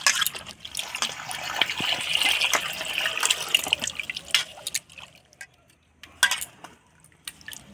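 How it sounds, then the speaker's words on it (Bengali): Cut potatoes being rinsed in water for a Bengali vegetable curry, with close dripping, splashing and trickling that is busiest early on, then thinning to scattered drips; no one talks. "আলুগুলা কাটে নিলাম, এবার ধুয়ে নিব।"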